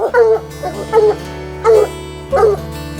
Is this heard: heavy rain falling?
no